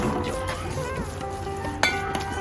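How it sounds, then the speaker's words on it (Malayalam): Apple pieces sautéing in ghee and sugar in a pan for Kerala apple payasam, a steady close sizzle with stirring scrapes and a couple of sharp utensil clinks toward the end. "പഞ്ചസാരയ്ക്കകത്ത് കിടന്ന് ആപ്പിളൊന്ന് വഴന്ന് വരട്ടെ"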